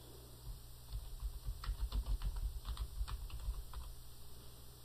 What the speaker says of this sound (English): Let's go ahead and type her name out.